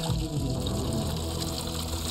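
Water running steadily from a tap fed by collected cloud water in Chile, a continuous close pour with a constant rushing texture and no talk.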